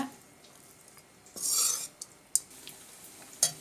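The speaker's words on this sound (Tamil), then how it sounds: "சாதம் போட்டதுக்கப்புறம் நல்லா கிளறி விட்டுக்கோங்க நல்லா மேலே கீழேயுமா நல்லா கிளறிக்கோங்க" Cooked rice mixed with drumstick leaf powder being stirred with a spoon in a pan, quiet scraping and a brief louder rub with a few clinks, close and without talk.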